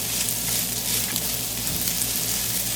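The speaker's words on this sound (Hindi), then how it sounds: "धोने के बाद पहले इसको ऑयल में अच्छी तरह से फ्राई करते हैं चावल को।" Washed rice frying in oil for Mexican rice makes a dense, even sizzle that crackles steadily throughout, close and fairly loud with no talking.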